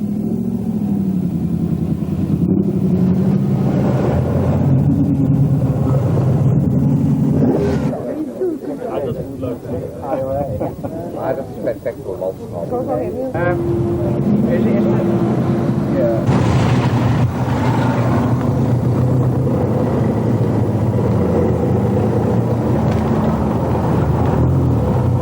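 A historic car's V8 engine rumbles steadily at close range at a country house, with people chattering over it and the engine note swelling near the end.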